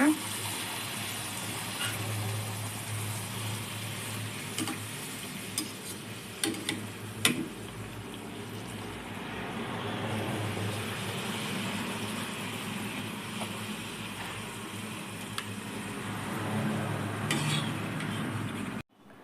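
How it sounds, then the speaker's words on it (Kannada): Puris frying in hot oil, a steady close bubbling hiss with faint ticks and light stirring noises that runs through the whole stretch. "ಎಣ್ಣೆ ಕಾದಿದೆ ಈಗ ಪೂರಿ ಬಿಟ್ಕೊಳ್ಳೋಣ"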